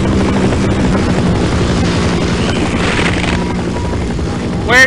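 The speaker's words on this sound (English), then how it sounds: "This helicopter really is gonna be the death of me" A helicopter in the game Half-Life, a loud continuous rotor chop and engine drone with booming low rumble throughout, filling the short stretch with no clear talk over it.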